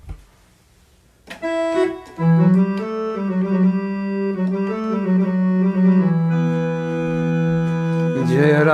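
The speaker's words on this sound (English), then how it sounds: "There's harmoniums that sound like this" A harmonium-like reed organ tone on a keyboard swells in after a brief quiet start, holding sustained chords that shift a few times, bright and reedy, close and fairly loud.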